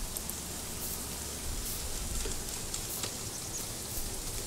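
Rain falls outdoors as a steady, broadband hiss with scattered droplet taps, continuous and moderately loud throughout, with no voices.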